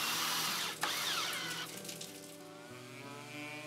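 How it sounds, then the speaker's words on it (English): A power drill drives 2-inch deck screws into southern pine bench braces, a continuous whirring motor whine with a brief jolt as the screw seats, then a lower steadier hum, close and alone. "Then install 2-inch deck screws in each hole."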